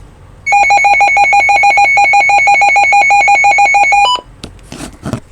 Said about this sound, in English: You'll hear that, and you'll hear a very distinct beeping. It's at 1050 hertz.